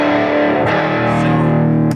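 An electric guitar runs through a homemade distortion fuzz pedal driving a single stage, producing a loud, sustained, buzzing distorted tone with a chord change partway through.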